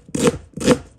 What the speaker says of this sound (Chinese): 再把洋葱切成细丝